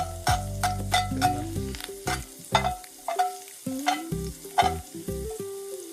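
Garlic fries in hot oil while a spoon stirs it, giving a steady close sizzle broken by repeated scraping strokes against the pan.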